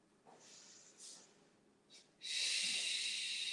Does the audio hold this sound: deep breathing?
yes